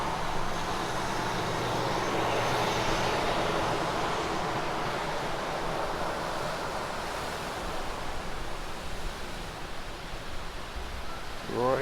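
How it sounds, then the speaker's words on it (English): Ocean waves break against rocks on the Oregon coast, a steady loud broadband roar of surf filling the whole stretch with no clear gaps, close and continuous. "Cool to hear the waves crash on the rocks"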